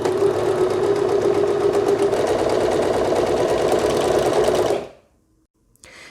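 Overlocker sewing a three-thread seam, a fast, even mechanical whirr with rapid stitching clatter running loudly for several seconds, then stopping abruptly into near silence before a faint click.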